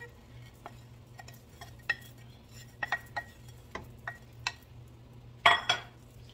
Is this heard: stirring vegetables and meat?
yes